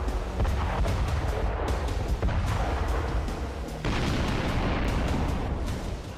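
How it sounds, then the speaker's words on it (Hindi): Dense, continuous rumbling of heavy guns firing and blasts, booming thuds overlapping with crackling bursts throughout, loud and without pause. "गरजती तोपें, दनादन बरसता बारूदी गोला"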